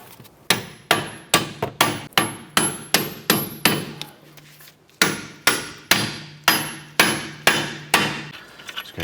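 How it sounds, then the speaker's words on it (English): Repeated sharp hammer taps drive a bolt into place while a CV axle is installed on a 2006-2013 Chevrolet Impala, about fifteen metallic strikes in quick steady bursts with a short pause midway, close and loud. "Let's go ahead and tap that bolt in."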